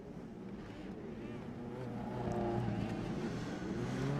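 A race car in iRacing pulls away from pit road in an Indy Pro 2000 series race, its engine tone rising and strengthening as it accelerates, a steady mid-level drone that grows louder toward the end.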